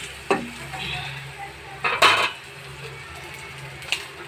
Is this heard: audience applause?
no